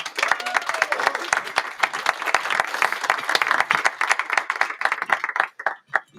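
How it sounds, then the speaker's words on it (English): Audience applause at a European young chef award final, a dense steady clapping from a crowd that thins and tapers off in the last second. "Give a round of applause for Spella."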